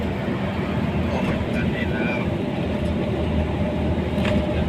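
A train stopped at a red light in Bangkok rumbles steadily nearby, a dense low roar that holds constant with faint higher squeals drifting over it.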